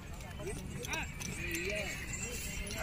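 A six-year-old girl rides a mare in a village, with steady clip-clop hoofbeats running throughout under a continuous voice and outdoor background noise.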